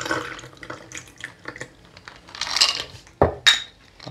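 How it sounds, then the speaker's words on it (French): Cocktail ingredients are poured into a shaker with a built-in ice strainer: a series of short liquid trickles and splashes, then sharp clinks of glass and metal toward the end. "On verse tout dans notre shaker."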